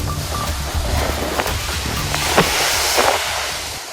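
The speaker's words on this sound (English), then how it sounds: "You could just hear those powerful waves pounding the Oregon coast." Powerful ocean waves pound the Oregon coast at Depoe Bay and Newport as a loud, continuous roar of surf, with gusty wind buffeting close to the microphone.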